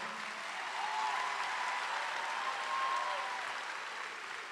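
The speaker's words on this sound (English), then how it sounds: "Give those two officers another round of applause." A commencement crowd at Albany State University applauds two officers in a continuous, even wash of clapping that sounds somewhat distant, with a faint whistle or cheer rising briefly above it.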